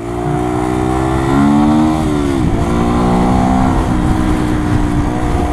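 A 125cc motorcycle engine revs loudly and close up for several seconds, its pitch climbing, dipping and rising again with no talk over it.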